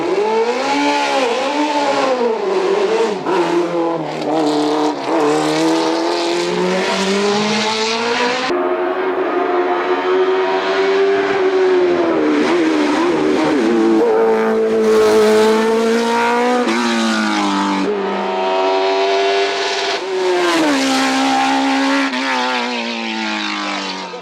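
Martini MK62 race car climbing a hill-climb course, its engine screaming loud and close through repeated rising revs and sharp gear changes, the pitch sweeping up and down continuously.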